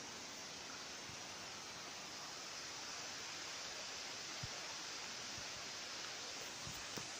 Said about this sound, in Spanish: Aquí hemos llegado a la cascada más grande de Santo Domingo de Guzmán.